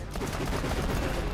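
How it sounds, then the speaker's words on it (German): In Borderlands The Pre-Sequel, gunfire hits a tank in a brief, dense burst of rapid shots. The sound is loud and crackly throughout the short stretch. "hin auf die Tank schießen, kritisch"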